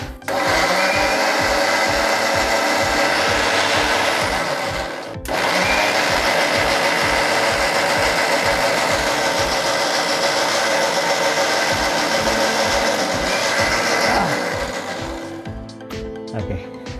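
A blender runs loud and steady while mixing milk for a strawberry milkshake, a continuous whirring drone with a brief dip partway through, then it winds down near the end.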